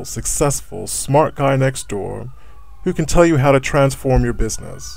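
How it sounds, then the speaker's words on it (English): A faint siren wails in the background, rising and falling under a man's steady, close-up speech. "Sorry for the sirens,"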